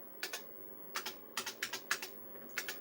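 Keys clacking on a vintage IBM computer keyboard in a typing tutor program, crisp close strokes in small clusters with short pauses between them.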